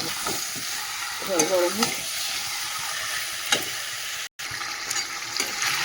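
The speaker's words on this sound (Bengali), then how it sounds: "এটা গ্যাসটা কমিয়ে দেবো, দিয়ে আস্তে আস্তে কষাতে থাকি।" Meat sautés slowly in a pan over lowered gas, a constant close sizzle with occasional stirring clinks and a brief cut; a voice speaks briefly over it.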